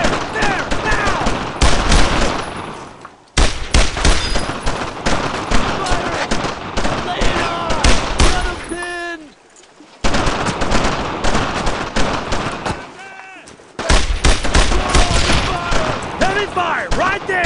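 Sustained gunfire from the World War II shooter Brothers in Arms: Road to Hill 30, dense bursts of rifle and machine-gun fire rattling loudly over several seconds, broken by short lulls, with shouted voices mixed in.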